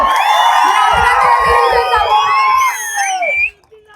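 A large crowd at a political rally cheers, whoops and shouts loudly for several seconds, with rhythmic low thumps underneath, before the noise drops away sharply near the end.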